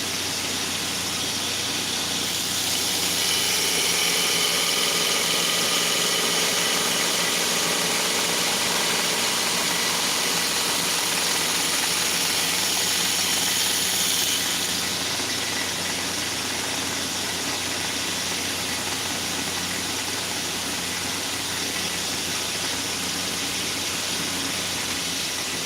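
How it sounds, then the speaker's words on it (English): Grinder grinding knife bevels in a shop, a continuous loud whirring hiss that swells for several seconds as the blade meets the belt, then eases to a steady running drone. "I try not to be grinding bevels anytime I have handles"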